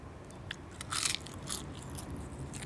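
Crispy fried pork being bitten and chewed, a few sharp crunches close to the mic with soft chewing between them, no talk.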